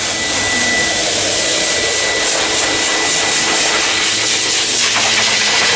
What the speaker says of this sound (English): I'm sure that's lovely warm air after they've had their wash